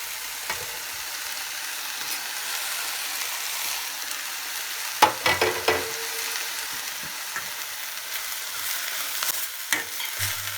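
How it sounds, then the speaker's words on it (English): Deep fried bitter gourd (karela) peels dropped into a frying pan, a soft continuous sizzle broken around the middle by a burst of louder clatter and crackle as they land and are stirred. "Adding the deep fried peels of the karela."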